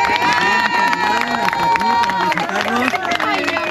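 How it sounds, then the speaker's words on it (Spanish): Lively crowd in Mazatlán clapping and cheering, with shouting voices, whoops and chatter layered over brisk, uneven applause close by. "Y aquí un aplauso para Alicia, que se vino."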